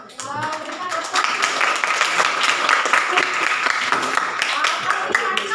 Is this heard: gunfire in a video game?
no